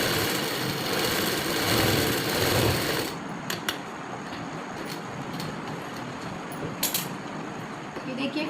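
Sewing machine double-stitching salwar fabric, a fast continuous whirring run for about three seconds, then quieter intermittent clicks and short bursts while a voice talks over it.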